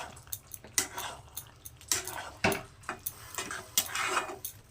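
Chicken kosha with kasuri methi is stirred in a pot, a spoon scraping and clinking against the metal in uneven taps and scrapes, close and fairly quiet.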